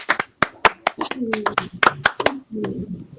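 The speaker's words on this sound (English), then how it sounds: "So, a round of applause for Lexi Green, everybody." A small comedy workshop audience claps for a comedian: sparse, uneven claps from a few nearby hands, with voices mixed in.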